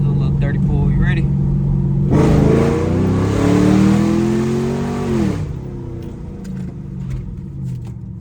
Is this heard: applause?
no